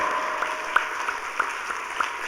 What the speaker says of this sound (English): That's worth a clap, don't you think?